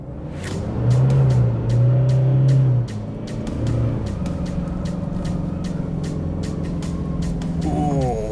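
A 4WD on deflated 16 psi tyres labours up a soft sand dune hill, engine droning loud and steady with revs rising and holding, tyres churning, no talk over it.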